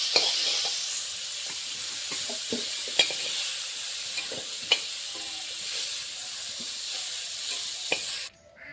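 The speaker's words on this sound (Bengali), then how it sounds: "কপিটা হালকা করে ভেজে নিয়েছি" Cauliflower pieces frying in oil in a pan, a steady close sizzle with occasional stirring clicks and scrapes, no talking, cutting off abruptly near the end.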